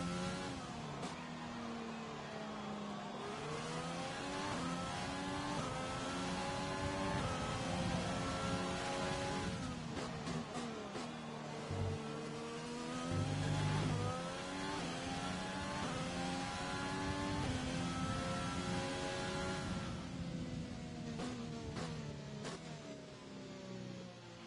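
In an esports racing game set in Austria, a race car engine revs and shifts continuously, its pitch sweeping up and down over long stretches. It stays steady and prominent with a faint hiss underneath.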